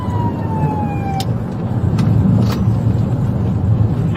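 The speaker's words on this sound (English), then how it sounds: "a black pickup truck flashing blue lights and playing an unofficial emergency siren" Unofficial emergency siren from a black pickup truck flashing blue lights, a faint wailing sweep over steady road and engine rumble, with brief chirps and blips mixed in.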